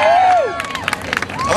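Crowd at an Occupy Baltimore rally cheering and clapping, scattered claps and shouts breaking out after a whistling sweep, lively and fairly close.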